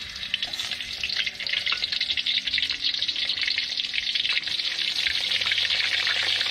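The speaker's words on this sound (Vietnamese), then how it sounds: "Giờ cô chế dầu vô đang chiên cá nha." Snakeskin gourami fish fry in hot oil in a pan, a steady, loud crackling sizzle that continues throughout with no talking.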